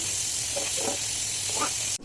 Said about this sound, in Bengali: শুকনো মরিচ নামিয়ে চিংড়ি মাছ ভাজা হচ্ছে ভর্তার জন্য।